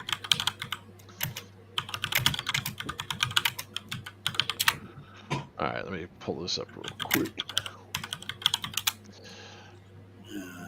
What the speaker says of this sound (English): you're so aggressive with your typing